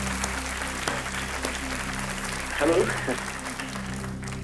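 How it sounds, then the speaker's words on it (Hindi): A studio audience on the quiz show Kaun Banega Crorepati applauds in a dense, continuous wash beneath steady music, and a voice briefly speaks over it. "यहाँ तालियों की इतनी जोर से गड़गड़ाहट हुई आपकी शायरी पर, आपकी कविता पर"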